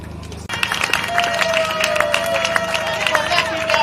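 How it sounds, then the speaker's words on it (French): A crowd applauds at an anniversary celebration for a political party, dense clapping starting abruptly and continuing with cheering and babble mixed in. "Applaudissez."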